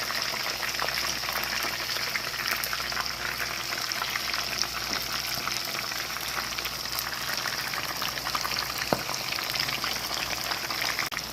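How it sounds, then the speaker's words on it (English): Breaded fish fries in hot grease, giving a steady, close crackling sizzle with fine popping throughout and no talking. "Heat you up some grease. Time to fry."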